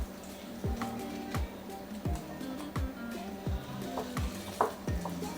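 Beef neck bones searing in a hot pan, a steady sizzle and frying hiss with repeated stirring scrapes and clinks at a regular rhythm, close and moderately loud, no talking.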